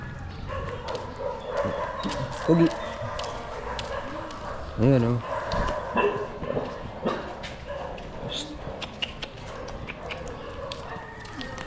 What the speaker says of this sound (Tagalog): Ang dami lang aso. Yan daming aso.